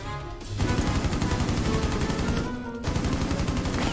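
Sustained machine gun fire in Rainbow Six Siege, loud and dense bursts of rapid shots that briefly pause near the middle, then resume.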